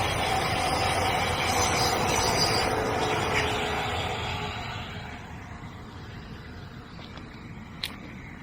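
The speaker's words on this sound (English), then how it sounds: "Here's the train." A train passes along a coastal line beside a rubbish-strewn Southampton-area beach, a loud broadband rumble that holds steady for several seconds and then fades into quieter background noise.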